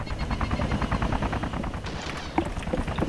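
Steady rapid automatic gunfire in DayZ Overpoch runs throughout, a fairly close, even rattle of repeated shots with a few sharper cracks near the end.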